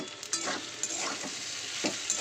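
Spices sizzle and fry in hot oil in a wok, with steady crackling broken by a few scraping stirs, close and fairly loud.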